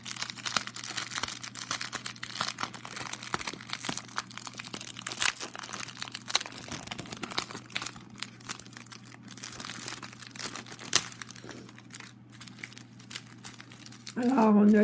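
AliExpress notebooks are freed from their packaging: close crinkling and crackling of plastic wrap comes in irregular bursts, with a voice occasionally speaking over the rustling.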